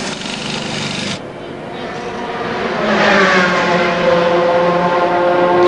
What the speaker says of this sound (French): Et voilà la voiture de Frédéric Bouvy et juste celle de Didier de Radiguez devant la Saline